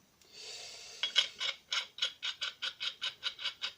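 A valve spring compressor tool for a Mini R50 engine is screwed in by hand, producing a rubbing scrape followed by a regular series of about a dozen close, rasping ratchet-like clicks.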